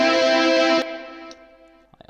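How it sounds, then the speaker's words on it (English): A sustained synth chord cuts off and its reverberant tail fades away, with a faint echo returning before a few quiet plucked notes begin. "also added some reverb and a bit of an echo"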